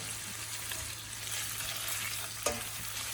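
Bacon and brown sugar sizzle steadily in a hot pan while being stirred, with soft scraping and a single sharp utensil clink near the end.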